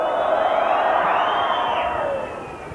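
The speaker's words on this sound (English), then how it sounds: "in front of a packed crowd today" A packed crowd of thousands roars at Headingley rugby ground during a Leeds versus Salford match, a broad sustained swell of cheering and whistling that rises, then tapers toward the end.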